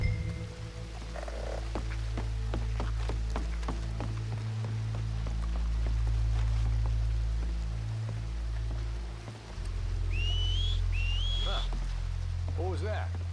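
In Red Dead Redemption 2, two short rising whistles come near the end over steady frog croaking and a low ambient drone of the game's outdoor scene.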